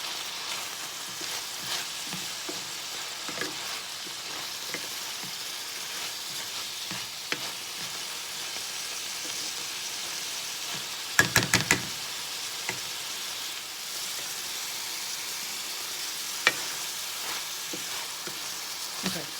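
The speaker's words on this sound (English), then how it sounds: "So we want these onions to get a little translucent" Onions sizzle and fry steadily in a pan as the base for smothered green beans, a soft constant crackle with occasional stirring knocks of a utensil against the pan, close and fairly quiet.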